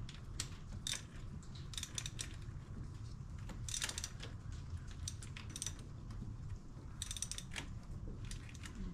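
A ratchet wrench tightens bracket bolts on the engine of a 2011 Malibu, giving bursts of close, rapid clicking separated by short pauses.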